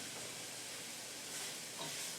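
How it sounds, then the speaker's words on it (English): Ground beef and cauliflower for a keto shepherd's pie cook on paper towels, giving off a faint, steady steaming hiss and sizzle with no talk. "It's pretty much steaming"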